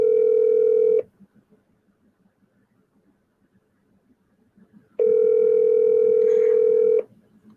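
A phone's steady dial tone drones for one second, gives way to quiet room noise with faint murmuring, then sounds again for about two seconds while a call waits to connect.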